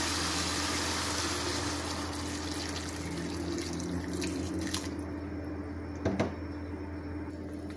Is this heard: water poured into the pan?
yes